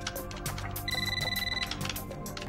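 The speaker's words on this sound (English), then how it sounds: "He then gets a phone call" A telephone rings in a low-budget Steven Seagal action movie, Driven to Kill: one steady electronic trill lasting under a second, sitting over a busy music bed.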